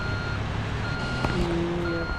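A grader in Construction Simulator 2 gives off reversing beeps, a couple of steady tones over the low rumble of its engine.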